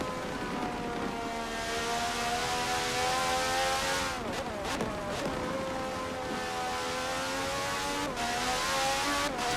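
Onboard IndyCar engine in a racing video game at Watkins Glen, a high-pitched whine climbing through the gears, dipping and rising again through corners, close and steady with no voices.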